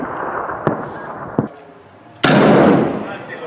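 Gunfire in battle at Deir ez Zor, Syria: two sharp distant shots followed by a louder, closer blast that rings out, over a steady rumbling background.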